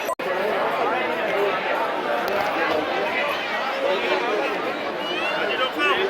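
Dense crowd murmur at Har Ki Pauri ghat in Haridwar, many overlapping voices forming a constant babble, opened by a brief sharp click and with a few nearer voices standing out.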